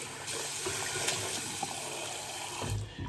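A bathroom tap runs steadily at a sink while water is splashed on the face during a shave, a continuous close hiss with small splashes throughout.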